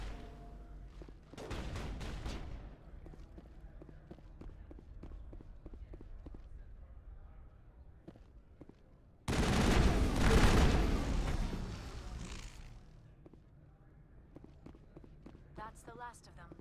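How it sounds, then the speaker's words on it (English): Two separate volleys of rapid gunfire in Mass Effect: a short burst early on, then a longer, louder barrage midway, with quieter footsteps and faint shots between them. "What are they shooting at?"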